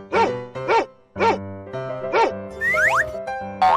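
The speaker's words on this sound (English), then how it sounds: "Dog." A cartoon dog gives several evenly spaced barks over a bouncy musical backing, followed by quick rising boing-like whistle effects near the end. The sound is close and fairly loud.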